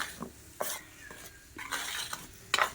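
Hot oil being stirred into flour in a bowl for salted shankarpale dough, heard as a few short, close scraping and clinking mixing strokes in an irregular rhythm, with quiet gaps between them.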